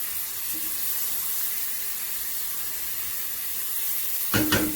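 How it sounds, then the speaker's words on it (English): Squash simmers in a pan with a soft, steady sizzling hiss, close and even throughout, ending with a couple of brief knocks. "I'm just going to let this simmer in the pan for a little while"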